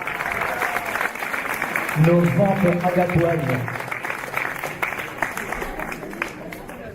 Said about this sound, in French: Alors on les applaudit, on applaudit